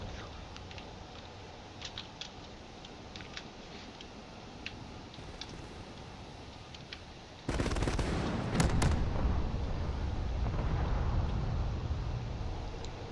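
A space battle in the video game Drone Wars sets off a burst of loud rapid missile and railgun fire about halfway through. Faint, sparse ticking comes before it, and people talk during the clip.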